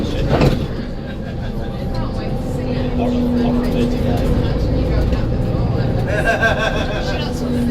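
A Volvo B7 ALX400 double-decker bus on a rail replacement service, heard from inside as a continuous loud engine drone and road rumble while passengers chat nearby.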